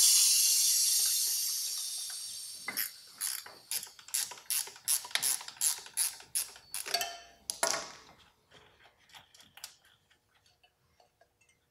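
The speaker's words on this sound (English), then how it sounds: "The next thing that we need to do is loosen the rim lock." A motorcycle wheel's rim lock is loosened with a ratcheting tool, giving a close, loud run of about a dozen rhythmic metallic clicks, then a few slower scrapes and taps fading out.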